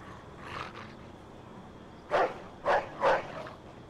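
A dog in the video game Mafia 2 barks three times in quick succession near the end, sharp and moderately loud, after a softer pair of barks at the start over a low ambient hum.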